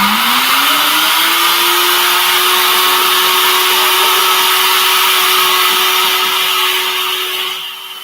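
A kitchen blender whirs loudly and continuously, its motor pitch rising at the start and then holding a steady high drone before easing slightly near the end.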